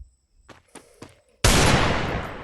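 Desert Eagle pistol fire in the shooting game Free Fire: three sharp, quick shots, then a loud, sudden blast that decays slowly over the final second.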